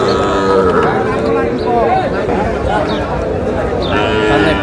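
Sahiwal bull calves moo repeatedly at a busy cattle market, loud bellowing calls rising over constant crowd chatter and shuffling, with several animals calling close by.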